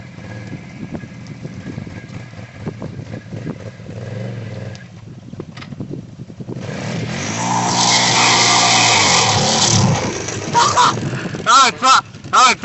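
Bombardier Renegade ATV engine revving hard on mud or asphalt, loud and close, rising to a sustained high roar midway, then sharp bursts of throttle near the end, with people talking over it.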